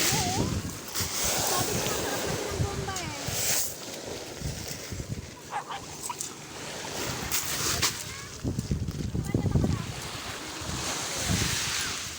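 Ocean surf rolls and crashes in broad noisy surges under gusty wind on a beach in Ternate, Cavite, with people talking intermittently over it.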